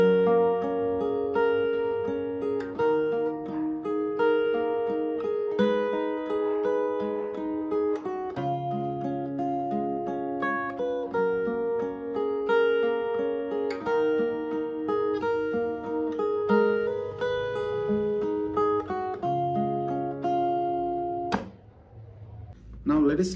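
Fingerstyle acoustic guitar plays a Hindi song with sustained picked notes and a steady melodic rhythm, close and clear, ending in a brief handling noise near the finish; no one speaks.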